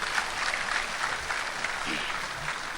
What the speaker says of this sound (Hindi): मैं चाहता हूँ एक बार जोरदार तालियां मेरे बड़े भाई के लिए